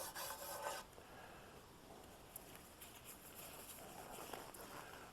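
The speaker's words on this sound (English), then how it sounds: "scratch with my fingernails, and it does not leave any marks" Quiet, steady scratching and rasping of fingernails on a lacquered wood tabletop, close up, with slightly louder strokes at the start and near the end.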